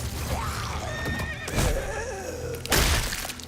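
A horse in The Walking Dead video game whinnies loudly several times, long shrill neighs with snorts and hoof clops between them, close and alone without talk.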